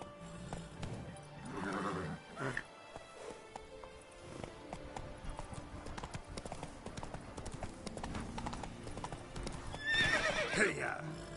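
Roach the horse gallops in Witcher 3, hooves clip-clopping steadily with neighs and whinnies over game music and a rider's shouted voice urging it on, the hoofbeats loudest near the end.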